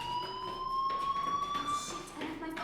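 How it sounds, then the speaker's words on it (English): A fire alarm in the video game Life Is Strange gives a steady, faint electronic tone that holds and slowly rises in pitch, with a few soft background sounds. "do you hear that fire alarm?"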